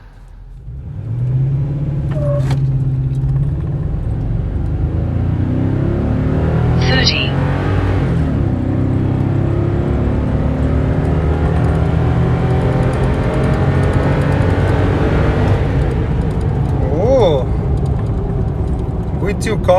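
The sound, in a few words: tuned Toyota Tundra accelerating during a 0-60 mph run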